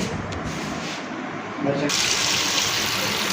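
Tap water runs steadily into a sink while vegetables are washed, a continuous splashing rush that grows louder and brighter partway through, with faint voices in the background.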